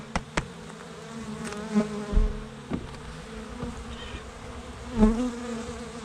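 Honeybees in an apiary buzz steadily nearby as they are shaken off a hive's top board, with a few sharp knocks and taps breaking in over the continuous drone.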